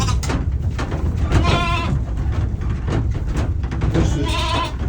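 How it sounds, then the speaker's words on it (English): Ewes and lambs crowded in a livestock trailer bleat repeatedly and overlapping, some close and loud, under a constant rumble of the moving trailer. "I'm in the trailer with all the girl sheep and all the babies"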